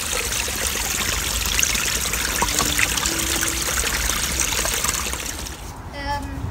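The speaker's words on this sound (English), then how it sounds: "just listen to that water, it is so relaxing, it sounds so lovely" Water trickles and splashes continuously into a garden fish pond, a close, bright, steady babble that thins out near the end.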